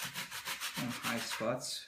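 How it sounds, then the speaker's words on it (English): A sanding block rubs back and forth across a surface in quick, even strokes, a close rhythmic scratching that continues under someone talking. "By turning the sanding block around a little bit, you can selectively"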